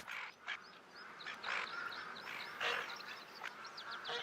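A large flock of tufted ducks flying in calls in repeated short, rasping notes over windy outdoor noise, with the birds sounding moderately close.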